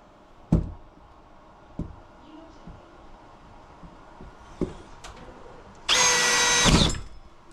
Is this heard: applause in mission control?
no